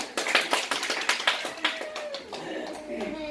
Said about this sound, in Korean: 박수 쳐드려야 됩니다